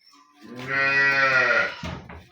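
A Jersey dairy cow gives one long, loud moo with a clear harmonic tone, rising in and holding steady for about a second before ending, followed by a brief rustle and quiet.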